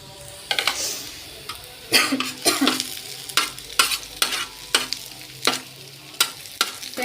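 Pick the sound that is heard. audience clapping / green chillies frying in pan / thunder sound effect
green chillies frying in pan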